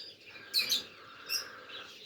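Birds chirping outdoors, a few bright tweets in two short bursts near the start and middle, fairly close, over a low background hum with distant voices faintly present.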